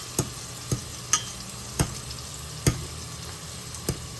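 A fork stirs pasta in a pot, making about seven sharp, evenly spaced clinks and scrapes against the pot over a soft continuous bubbling background.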